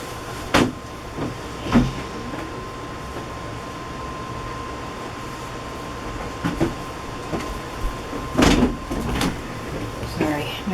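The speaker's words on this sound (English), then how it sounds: "My closet door is so noisy because I have the shoe pouch on it with all my punches." A noisy closet door with a shoe pouch full of craft punches clatters and thumps in a few separate bursts, close by and amid quiet room noise.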